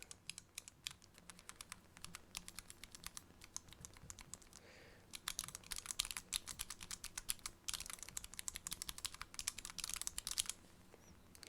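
Clicky mechanical key switches on a small four-key programmable gaming keypad are pressed in quick irregular bursts, faint and close, with a brief pause midway before a denser run of clacking.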